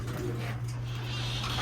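Young pigeons cooing in a loft, a low soft steady coo with faint rustling and no clear breaks over a short stretch.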